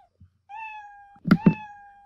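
A cat meows twice, a drawn-out tonal cry broken by a couple of soft thumps, heard close in an otherwise quiet space.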